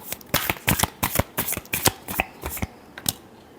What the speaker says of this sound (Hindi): लास्ट शफल, एक और शफल करेंगे।